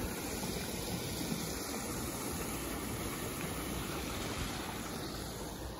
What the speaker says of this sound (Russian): Водопад тут.